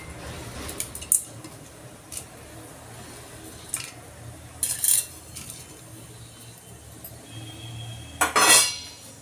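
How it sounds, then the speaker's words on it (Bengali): Whole spices for mutton korma drop one by one into a pot with a few sharp metallic clinks and clatters spread over quiet background. "ওই দেখুন একটা একটা করে আমি দিয়ে দিচ্ছি সব ফোড়ন।"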